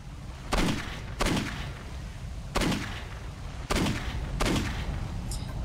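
Gunshots in the video game Postal 2, five loud, sharp reports spaced roughly a second apart, each with a short echoing decay, over a low background hum with no talking.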